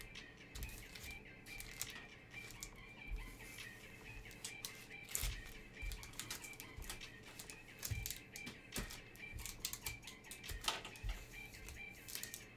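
Packs of trading cards are shuffled by hand during a live pack-opening session, giving a quiet, steady run of rapid papery riffles and clicks close to the mic, with no talking.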